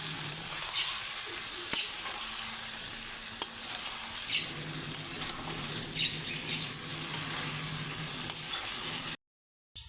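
Boiled jackfruit and potato sautéed in a pan for a Bengali egg curry, giving a steady close sizzle with occasional scraping stirs and faint birdsong in the background before it cuts off abruptly near the end.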